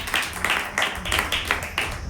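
A church congregation claps together in a steady, fast rhythm at a worship service, the hand claps sharp and close, repeating about four times a second with no voices over them.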